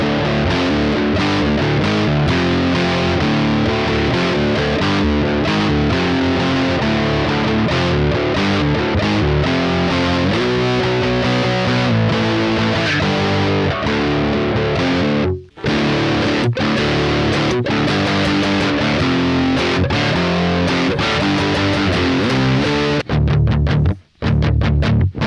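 An electric guitar runs through a distortion effect into a Yamaha AG06 MK2 USB mixer, playing a loud, continuous stretch of crunchy, sustained chords and riffs with a few brief cutoffs near the end.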